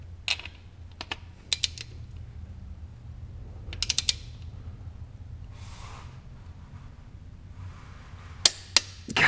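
Torque wrench clicking and ratcheting as a bolt is tightened to 37 foot-pounds during an engine swap on a 2013–2019 BRZ, FR-S or 86, with short bursts of sharp clicks and creaks in a quiet garage.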